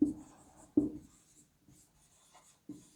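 Pen or marker writing by hand on paper while working a maths problem, a few scratchy strokes that start sharply and trail off, with short pauses between them; close and fairly quiet, no talking.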